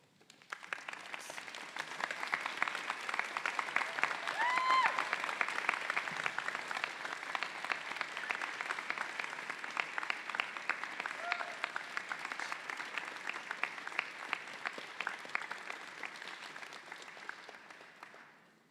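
Steady applause from a large audience at a medical school commencement ceremony, sustained clapping that fills the whole stretch and tapers off slightly at the very end.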